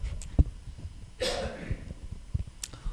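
A person with an itchy throat lets out a single harsh cough in the middle, short and close, with a few small clicks and thumps around it.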